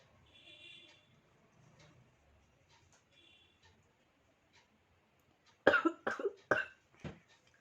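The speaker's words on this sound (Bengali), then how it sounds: "হাঁচি হচ্ছে না, কাশি আসছে।" A person who is trying and failing to sneeze coughs four or five times in quick succession near the end, loud and close, after several seconds of quiet breathing and faint background sounds.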